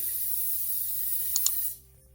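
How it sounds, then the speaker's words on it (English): Light aerosol cooking-oil spray hissing steadily over breaded pickle slices on an air fryer rack, a continuous close, bright hiss for about a second and a half before cutting off. "We're going to give them a light spray just to make sure everything's coated."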